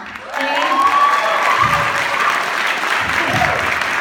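An audience claps and cheers for three performers, Brian, PJ and Kevin, a loud, full burst of applause rising quickly and holding steady, with a voice or whistle ringing faintly above it.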